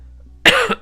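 A single short cough bursts out after a near-silent pause, close and fairly loud, followed by a brief second catch of breath, during a puzzle game session.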